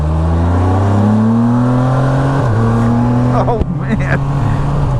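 Can-Am Spyder F3 three-wheeler engine droning steadily and loud while riding, pitch rising and shifting as it accelerates, with a voice speaking briefly over it.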